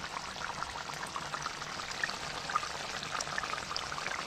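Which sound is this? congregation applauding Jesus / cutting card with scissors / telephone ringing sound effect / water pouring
water pouring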